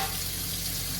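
Tap water runs steadily into a kitchen sink being filled to wash dishes, a continuous close rushing hiss at even loudness throughout, with no voices.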